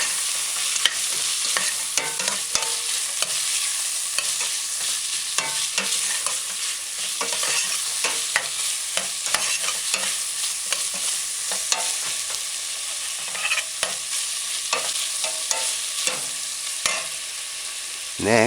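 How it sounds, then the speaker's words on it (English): Carrot sticks being stirred into vegetables frying in a pan, a constant hissing sizzle broken by frequent scraping and clacking strokes of the stirring utensil, close and steady throughout, with no talking. "Add the salt, and then add the carrot sticks. Stir it in, stir it in."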